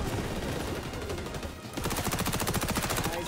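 Sustained automatic gunfire from the XDefiant video game, a dense, loud rattle that grows sharper and more evenly rhythmic partway through, firing continuously without pause.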